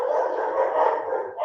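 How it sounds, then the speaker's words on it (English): Dogs bark and howl in a sustained, steady burst a short distance away, filling the short stretch without any talk over them. "I wonder if you can hear my dogs barking in the background."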